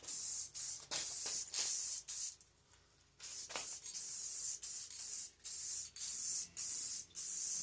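Spray paint hissing onto bare, rusty metal of a Warrior 350, in short repeated bursts of steady aerosol spray with brief gaps between passes, close and clear.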